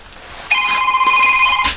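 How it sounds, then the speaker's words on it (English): A telephone rings in a workshop with one bright, sustained electronic ring tone lasting just over a second, loud and close, starting abruptly after a brief quiet moment. "Bloody phone."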